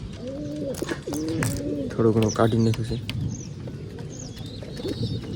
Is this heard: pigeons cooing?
yes